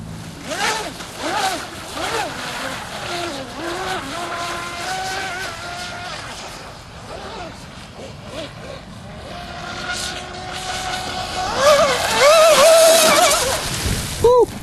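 A small high-revving RC speedboat motor whines and rises in pitch, fading and surging as it races, with voices talking over parts of it.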